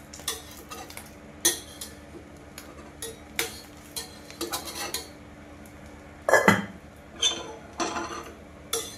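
A broccoli, bottle gourd, paneer and egg pancake is flipped in a pan, heard as repeated metallic spatula taps and clinks against the pan, with one louder scrape-and-clatter burst midway.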